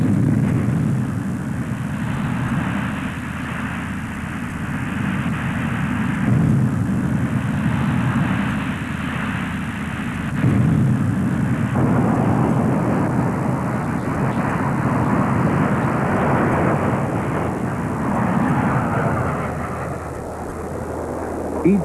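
A Soviet fast jet fighter roars steadily through the whole stretch, a loud, continuous broadband engine rush with slow swells in intensity and no voices over it.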